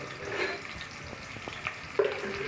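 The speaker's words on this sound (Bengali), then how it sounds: "দুটো তেজপাতা নিয়েছি, 3-4টে দারুচিনি আর 5-6টার মতো এলাচ দিয়ে এখন এটাকে খুব ভালো করে নেড়ে নিব।" Bay leaves, cinnamon sticks and cardamom pods stirred in a hot pan give a soft, steady sizzle with a few light scraping clicks and one sharper knock near the end, fairly quiet and with no voices.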